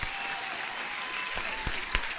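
Applause sound effect, a dense steady wash of many hands clapping throughout, with a faint voice briefly underneath.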